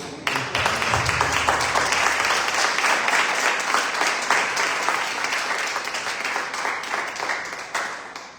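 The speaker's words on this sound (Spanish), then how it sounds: "Y sí se vale el aplauso a Cristo, hermano, por eso." Applause from a church congregation, dense and steady clapping that fills the hall after a brief quiet start, continuing loudly for several seconds and tapering slightly toward the end.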